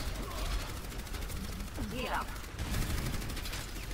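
Gunfire aimed at the player in an Overwatch match, a steady run of rapid shots across the whole moment, dense and continuous under game effects and a voice sweeping through.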